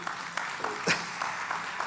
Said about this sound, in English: We need to make some noise and clap.